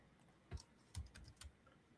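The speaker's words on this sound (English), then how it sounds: "I'm getting used to a new keyboard and it's really bad." A few quiet, separate keystrokes on a new computer keyboard, soft clicks spaced about half a second apart in a quiet room with no talking.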